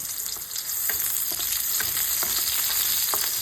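Chopped native Tagalog onions fry in a pan with a constant, close hiss of sizzling oil. Light clicks of a spatula stirring are scattered through the sound.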